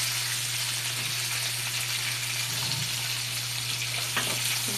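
Sinigang soup stir-fried in a pan gives a steady frying sizzle with a low constant hum underneath and occasional soft clinks of stirring.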